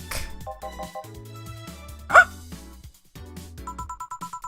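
A voice imitates a single, sudden dog bark over bright, looping electronic game music from the cyberpunk bartending game VA-11 Hall-A.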